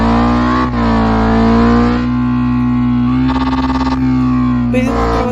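A car exhaust revs in the mobile racing game Elite Autos Brazil, a loud, buzzing engine drone that rises and falls with throttle blips and a harsh, distorted rasp.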